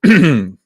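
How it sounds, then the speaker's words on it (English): A single loud, close throat-clearing cough, a short voiced rasp lasting about half a second. "I really shouldn't cough like that when I've got the mic live"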